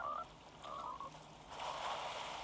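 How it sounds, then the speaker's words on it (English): Frogs croak in Fortnite, a few short trilling bursts rising over quiet game ambience, faint and somewhat distant, with no talk. "these frogs are so annoying"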